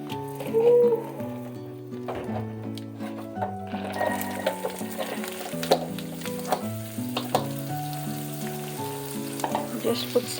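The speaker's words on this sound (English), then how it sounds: "I will be doing the tadka of this veggie." Tadka for a vegetable dish: spices frying in hot oil with a loud, continuous crackling sizzle, close up, accompanied by steady tonal background music.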